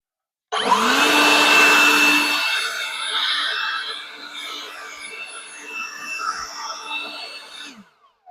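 A steady, loud blower dryer roars close by while blowing hair out of a dog's coat, its airflow shifting and fluttering after a strong start, with faint voices underneath.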